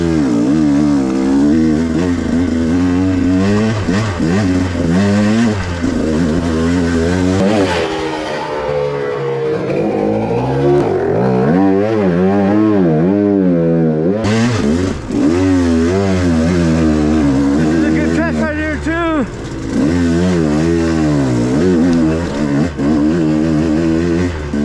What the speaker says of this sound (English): I'll try to ride it clean. Also, see how the carburetor does going slow.